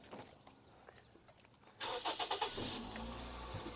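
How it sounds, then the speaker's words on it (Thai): A 2005 Toyota Vios engine starts on the first try after a few quiet clicks, cranking briefly then catching and settling into a smooth steady idle, heard close by. "สตาร์ททีเดียวติดนะครับ ผม เครื่องเดินนิ่งเรียบดี นะครับ"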